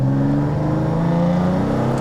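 Loud, close car engine revving, its pitch rising and falling in a smooth throaty hum with no voices.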